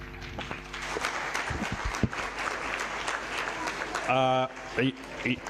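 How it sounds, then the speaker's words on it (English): Audience applause at a dialogue event on ending child labour, a crowd clapping steadily at moderate volume with some voices and other sounds mixed in, ending in a brief louder tonal burst. "I thought the applause would be more thunderous than that."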